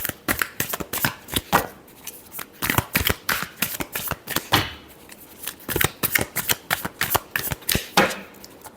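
Tarot cards shuffled by hand in a brisk run of crisp riffling slaps and flutters, close and fairly loud, repeating steadily throughout with no talking.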